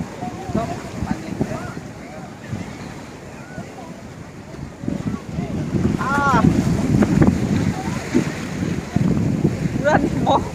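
Sea waves wash in at Kanyakumari on the southern tip of Tamil Nadu, a steady surf roar mixed with gusty wind buffeting the microphone, with people talking over it.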